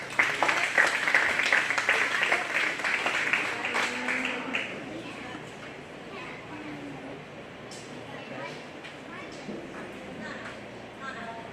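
Applause at a county fair 4-H and FFA beef cattle show, a burst of clapping for a young exhibitor that fades after a few seconds into a quieter hall with a voice speaking.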